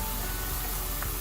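Steady, close sizzle of tomatoes and onions sautéing in a pan for a Cajun tomato cream sauce, an even hiss with no pauses or talk.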